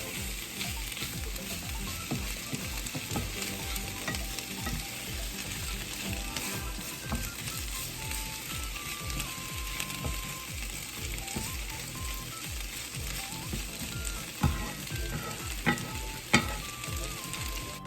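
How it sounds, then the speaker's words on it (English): Pork chops sear in a hot pan, giving a continuous close crackling sizzle with scattered pops and a few faint clinks, with no talk. "I'm just going to pan sear this for about a minute or two on each side"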